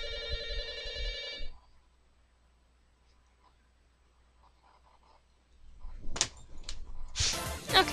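A telephone rings in the Mighty Switch Force! game, heard as a loud, bright multi-tone burst lasting about a second and a half, then near silence, followed by sharp clicks and noisy clatter.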